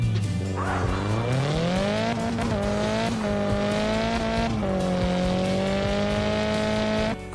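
Drifting cars in the mobile game CarX Drift Racing 3 give a loud, continuous engine whine that rises and falls with gear changes, with tire squeal layered throughout and no talk.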